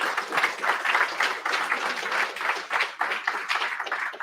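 Applause from a small data engineering meetup audience after a talk, a fairly close, uneven patter of clapping hands with slight swells that continues throughout without any talking.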